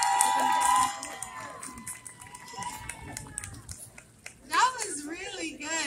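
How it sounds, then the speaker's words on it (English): An audience cheers and applauds after a young performer's rap set at a teen empowerment event, with crowd noise swelling around voices near and far and a burst of whoops toward the end. "Can we get another round of applause?"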